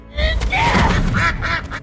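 A duck in the animated series Fog Hill of Five Elements lets out a loud, close burst of several rapid nasal quacks.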